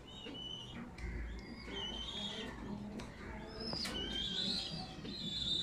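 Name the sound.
pigeons cooing in loft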